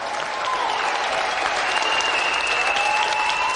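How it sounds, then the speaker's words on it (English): A studio audience on a games TV show claps in a steady, dense burst of applause lasting the whole stretch, close and fairly loud, with no voices over it. "let's have a round of applause again for our gallant loser"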